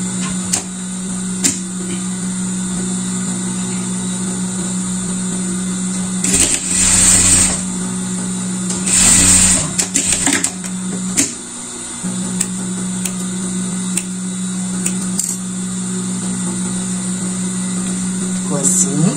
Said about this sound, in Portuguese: Eu vou no overlock dar uma limpeza aqui